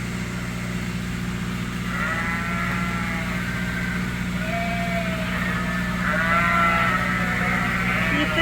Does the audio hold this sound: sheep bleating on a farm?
yes